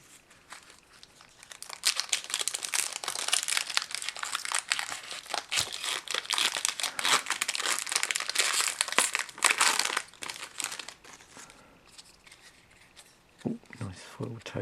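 Foil Magic: The Gathering Modern Horizons booster pack wrappers crinkle and tear open in a long, busy burst of close, bright rustling that tapers off near the end, with a few soft handling knocks.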